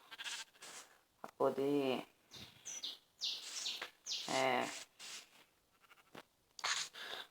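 Minecraft sheep bleat in short, wavering cries, several times and close by, heard between and under someone talking in Portuguese.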